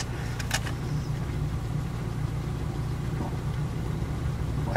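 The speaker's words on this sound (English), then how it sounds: "I hear the fuel pump." A Mazda RX-7's fuel pump runs, a steady low mechanical hum and drone that holds evenly throughout, with a brief clicking tick near the start.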